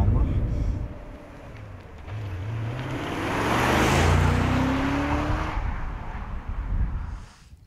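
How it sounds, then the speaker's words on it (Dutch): BMW E39 M5 from 2000 with its 400 hp V8, engine droning and swelling as it accelerates on the road, loud and close, building to a peak mid-clip with a voice talking over it. "die V8, die klinkt zo heerlijk"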